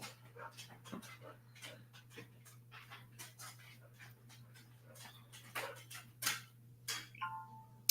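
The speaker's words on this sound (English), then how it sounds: "My dog. She's constantly licking herself." A dog licks and pants close by, wet irregular smacking clicks scattered over several seconds above a steady low hum, quiet and without speech.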